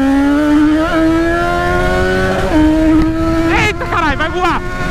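A motorcycle revving hard and accelerating, its engine tone climbing steadily then jumping to higher, rapidly shifting pitches near the end; a loud, close engine note with excited voices over it.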